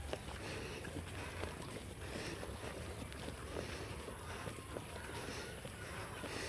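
Steady engine drone of a motorboat with water and wind rushing past, constant and close throughout, no voices.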